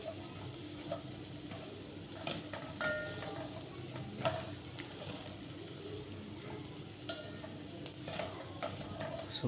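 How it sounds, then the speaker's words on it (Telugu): Okra fry being stirred in a pan with salt and chilli powder, a spoon scraping in gentle, irregular strokes over a faint sizzle, fairly quiet and close. "బాగా కలిపేద్దాం. ఉప్పు కారం బాగా పట్టాలి బెండకాయకి."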